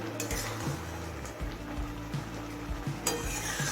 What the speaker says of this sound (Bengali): এবার মিডিয়াম ফ্লেমে মিষ্টিটা গলে আসা পর্যন্ত নাড়তে থাকবো